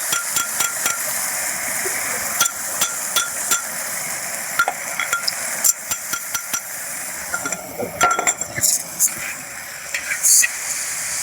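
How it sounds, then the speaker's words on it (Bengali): Crushed ginger and green chilli fry in oil with panch phoron. A steady, close sizzle runs throughout, punctuated by frequent sharp clinks and scrapes of a spatula stirring against the pan. "এই আদা কাঁচা লঙ্কাটাকে এবার একটু ভালো করে ভাজতে হবে।"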